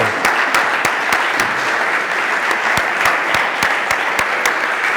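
Steady applause from an audience at a public speaking talk as a volunteer is called up, a dense crowd clapping with a few sharp, close individual claps standing out at regular intervals.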